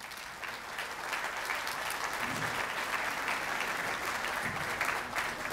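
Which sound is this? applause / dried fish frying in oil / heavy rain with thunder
applause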